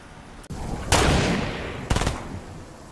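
Gunfire in Fortnite during a Halloween match: a sharp, loud shot followed by a reverberant tail, then a second quick cluster of rapid reports about a second later, with no talk over them.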